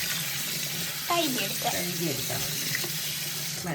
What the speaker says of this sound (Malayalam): കോളിഫ്ലവർ നല്ല നമ്മൾ ഇങ്ങനെ വെച്ച് കഴുകിയെടുക്കാണേ